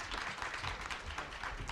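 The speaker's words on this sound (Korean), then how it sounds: "모든 분들께 큰 박수 부탁드립니다." A seated audience at the 2023 Busan blockchain conference applauds the panelists after a discussion session, a brief, even burst of many hands clapping in a hall.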